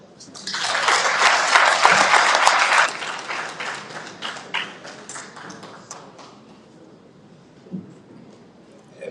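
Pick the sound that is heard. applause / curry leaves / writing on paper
applause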